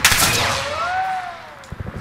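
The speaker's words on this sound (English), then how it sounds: "I'm trying to shoot him." Gunfire in the video game Call of Duty: Modern Warfare on PC, a loud shot burst with a long whistling ring-out tail, followed by a few smaller clicks near the end.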